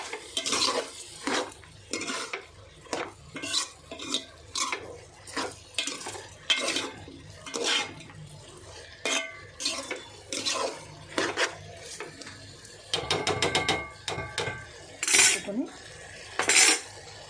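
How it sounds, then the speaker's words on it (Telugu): A spoon stirs a potato, brinjal and chana dal curry in a metal pan. It gives repeated rhythmic scrapes and clinks over a faint sizzle, fairly close, with no talking. "ఇప్పుడు ఒకసారి తిప్పుకుందాం వేసేసాం కదా చక్క తిప్పుదాం"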